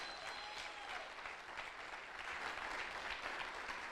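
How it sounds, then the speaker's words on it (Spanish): Steady applause from a church congregation during a sermon, dense and continuous for the whole stretch at an even moderate level. "Vamos, aplauda al Rey de Reyes. Aplauda a Cristo."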